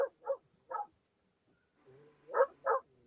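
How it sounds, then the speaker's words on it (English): Dogs outside give several short, moderately distant barks in two clusters, three yaps and then two more, with quiet room tone between them. "Them dang dogs out there."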